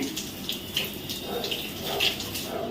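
Shower water runs steadily in a home bathroom, a continuous hiss and spatter with small splashes, fairly close and with no voices.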